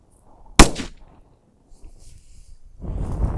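A training grenade goes off in one sharp, loud bang, then a brief rumbling tail, quiet stretches and faint rustling, followed by low noise near the end.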